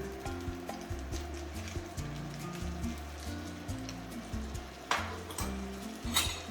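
Butter sizzling in a hot pan with bacon and Brussels sprouts, a fine crackling hiss with scattered pops and occasional louder spatters, under a faint musical background.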